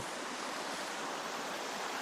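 Calm river water flowing in a kid-friendly stretch near a cabin in Baguio City: a steady, even wash of rushing noise with no breaks, close and constant.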